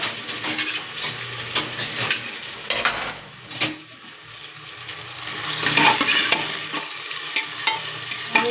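Onions soften in oil in a pan on a home stove, with a continuous sizzle and repeated scraping and clicking of a spoon while stirring, close and moderately loud, with no talking.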